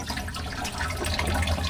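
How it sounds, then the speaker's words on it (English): Water streams out of plumbing supply lines while a pump runs, a loud, steady rushing hiss over a low mechanical drone, continuous and without voices. "stream of water coming out of all of them."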